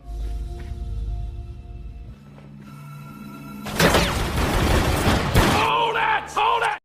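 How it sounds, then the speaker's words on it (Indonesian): Gunfire erupts in a film scene as a loud, dense burst of shots and crashing impacts after quieter moments, followed by shouting voices. "Setelah menghujani Smith dengan peluru"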